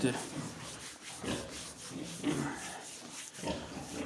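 Steady rough rubbing and scratching against a pig's bristly skin, close and continuous, with soft rhythmic strokes and faint grunting in the background.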